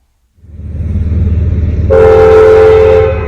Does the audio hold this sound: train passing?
yes